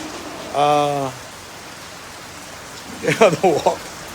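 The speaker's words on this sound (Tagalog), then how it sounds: "parang medyo lumalakas ang ulan" Steady soft hiss of typhoon rain growing heavier throughout, with a brief droning tone early on and a voice speaking near the end.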